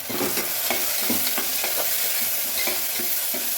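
Tomato tipped into well-softened onions sautéing in a pan for avarakkai poricha kuzhambu, giving a steady loud sizzle with repeated scraping stir strokes close by, no talking.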